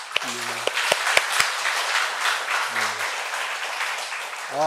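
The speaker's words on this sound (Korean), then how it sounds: "우리 오래간만에 박수 한번 칠까요?" Audience at a packed Sunday church service breaks into sustained clapping, a dense wash of many hands with a few sharper claps up front and brief voices cutting through near the start and end.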